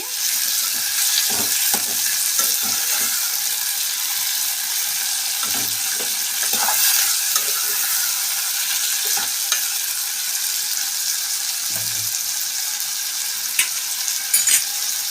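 Onions and chopped tomatoes fry in a pan with a steady, loud hissing sizzle throughout, broken by occasional soft stirring scrapes and light knocks.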